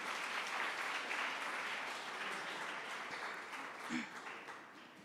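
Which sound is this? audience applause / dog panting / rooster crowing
audience applause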